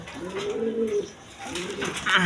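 A pair of Danish pigeons coo close by, with two soft, rolling coos in quick succession and faint background noise, and no talking over them.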